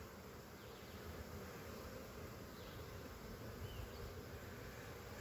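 Honeybees buzz steadily in an open queenless hive during a colony inspection, a dense continuous hum that holds at an even level throughout, with no talk over it.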